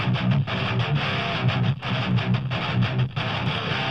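Produced guitars shaped with EQ, a limiter and light tube saturation, forming a dense, steady, loud wall of sound with rhythmic dips and no voices.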